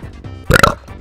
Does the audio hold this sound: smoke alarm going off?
no